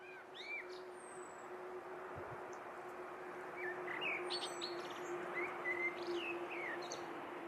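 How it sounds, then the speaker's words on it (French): Birds in a winter garden give a scatter of thin chirps and whistled calls over a steady low hum and background noise, faint and somewhat distant, growing a little busier toward the end. "les tourneaux sansonnets forment parfois des dortoirs de plusieurs centaines de milliers d'oiseaux"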